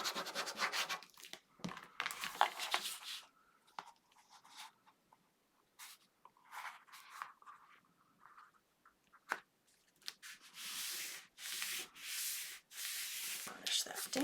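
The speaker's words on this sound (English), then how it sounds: "Burnish that down." Glued paper being burnished onto a craft folio gives soft, repeated rubbing and scraping strokes in short bursts, fairly quiet and close, with pauses between passes and a faint voice at times.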